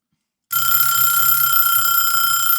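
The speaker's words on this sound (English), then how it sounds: "There's my timer." A timer alarm starts abruptly after a short silence and rings continuously with a loud, shrill electronic tone, close and alone.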